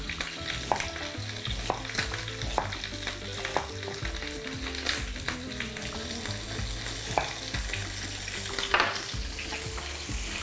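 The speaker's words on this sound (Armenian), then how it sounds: "նույն տապակի մեջ տապակենք սոխը" Onion sizzling and frying in a pan, the same one just used to brown pieces of meat, with steady crackling and occasional stirring scrapes and clinks, close and alone without any voices.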